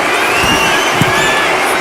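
Loud, continuous roar of a large crowd cheering and whooping in a WWE 2K25 arena during a John Cena versus Charlotte Flair match, a dense sustained wall of voices with scattered shouts.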